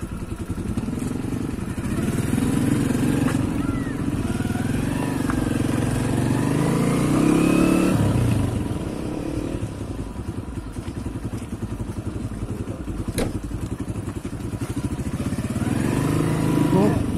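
A motorcycle is ridden along a road with a steady mid-pitched engine drone that swells and eases with the throttle, and people talk over it throughout.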